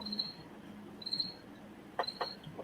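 Crickets chirp in short high bursts, faint and fairly distant, with a few brief clicks and rustles near the end.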